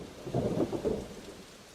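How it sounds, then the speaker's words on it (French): Steady rain falls while a low roll of thunder swells and fades midway, with no voices over the storm. "Le lendemain, il pleut"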